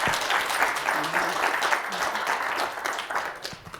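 An audience applauds at the close of a planning lecture, a dense, steady wash of many hands clapping at moderate loudness that holds for several seconds and begins to thin at the very end.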